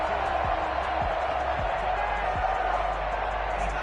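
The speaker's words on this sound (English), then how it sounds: "the crowd getting into it as we come up on a big third down" A stadium crowd at a playoff football game roars steadily as a big third down approaches, a dense, continuous wash of noise with a few dull thuds underneath.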